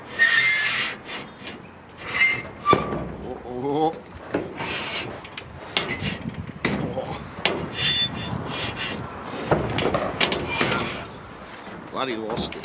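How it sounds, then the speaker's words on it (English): A solar panel scraping and sliding down a roof onto a piece of timber, with rubbing, rasping drags and knocks in uneven bursts, while someone talks over the noise. "I've also got to slide this bloody panel down, so I'm going to try and land it there on that bit of timber"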